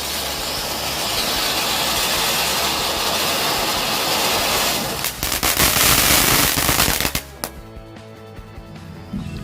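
Firecrackers and fireworks set off ahead of Ramadan, a sustained roaring, crackling burst that swells into dense rapid pops and bangs before cutting off, leaving faint scattered noise.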